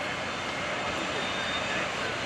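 A 3,000-pound aerobatic airplane with a 220 horsepower Continental engine drones continuously at an airshow, a steady engine roar heard at a distance under a faint crowd and ambient noise.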